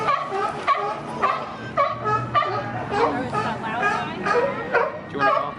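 Small dog giving a string of short yips and barks, close by, in a lively spot with a crowd murmuring and a person talking in the background.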